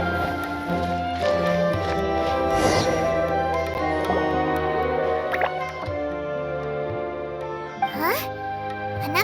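Water droplets dripping in a video game, with scattered plinks and gurgles over a steady musical background, while a voice talks now and then.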